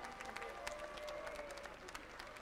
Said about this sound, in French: Il mérite des applaudissements, s'il vous plaît.